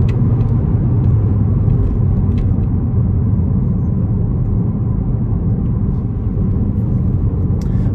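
A Ford Focus ST Mk4 engine drones as a deep, steady rumble under acceleration, loud and continuous with no talking.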